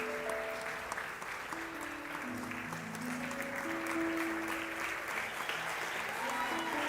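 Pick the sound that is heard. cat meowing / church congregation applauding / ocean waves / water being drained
church congregation applauding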